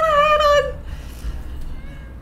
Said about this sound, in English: Oh no, that's a kitty!